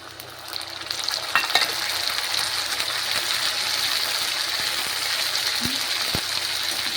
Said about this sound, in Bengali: পেঁয়াজ ভালোভাবে ভাজা হয়ে গেছে, এখন আমি দিয়ে দেব আদা রসুনের পেস্ট।